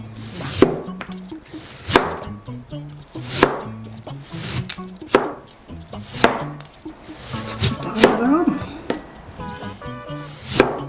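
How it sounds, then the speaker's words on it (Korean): A knife chops 700 g of radish into fairly thick slices on a cutting board: loud, regular thuds about every one and a half seconds, with rustling and scraping between strokes and a little clatter near the end. "무 700g 조금 두껍게 썰어도 돼요"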